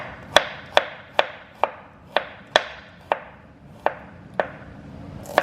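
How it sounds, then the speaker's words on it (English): A knife slices radishes into rounds on a cutting board for fish tacos, giving about a dozen crisp, evenly paced chops close by, with no talk. "I'm just going to go ahead and slice these"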